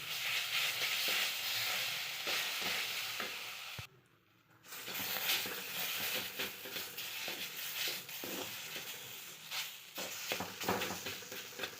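Mashed ripe banana paste sautéed with roasted semolina in a pan gives a soft, continuous sizzle with scraping stir strokes, quiet throughout and with one brief hush partway through.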